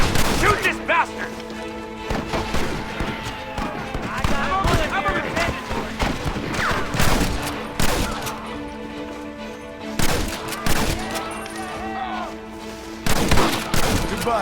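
Rapid bursts of gunfire in a chaotic Red Dead Redemption shootout, shots cracking repeatedly with loud impacts while a voice shouts over the fight.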